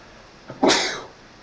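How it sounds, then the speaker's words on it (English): One sharp human sneeze, close and loud, with a quick indrawn breath just before the burst and a short fading tail after. "I'm gonna sneeze now"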